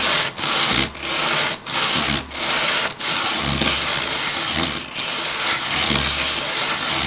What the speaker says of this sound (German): Ich habe hier dann ein grobes Schleifpapier, das ist extrem grob, 40er.